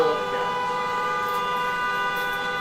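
A car horn sounds in traffic as one continuous, fairly loud blaring tone that holds steady without a break, heard from inside a nearby car.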